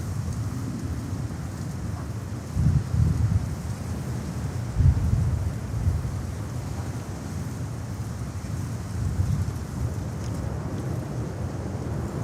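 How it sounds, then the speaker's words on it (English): Strong wind buffeting an outdoor microphone at JFK Airport in New York, a steady low roar with heavier gusts thumping in around three and five seconds, continuous throughout with no voices. "Sorry, I have to fight the wind here."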